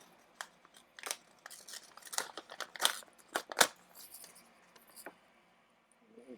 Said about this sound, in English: we're going to start cutting paper